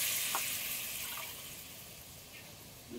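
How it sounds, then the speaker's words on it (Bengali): Water is poured from a bowl into a pot of rice for cooking, a close, steady splashing stream that runs for a few seconds without a break. "এই একই বাটির মাপ করে 2 বাটি জল আমি দিয়ে দেবো।"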